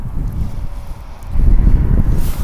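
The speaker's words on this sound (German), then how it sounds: "So, ein wenig wird es windiger hinten," Wind gusting across an open airport apron, a steady low rumbling buffet that swells louder midway and stays strong to the end, with no talk over it.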